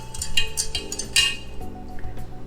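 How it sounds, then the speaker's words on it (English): A spoon clinks and scrapes against a pot while stirring a hot-process soap mixture made with sodium hydroxide, giving a few close, light metallic taps and swishes with no talking. "So I'm gonna go ahead and give this one last stir."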